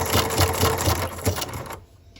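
Sewing machine stitching through journal papers, a fast rhythmic mechanical whirr with regular clacking pulses, close and steady, stopping abruptly near the end.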